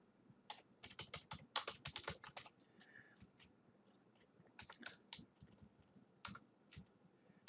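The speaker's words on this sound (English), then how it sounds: "sorry, I can't type very well." Uneven bursts of computer keyboard typing, close and fairly quiet, with clusters of sharp key clicks separated by short pauses and a faint background hiss.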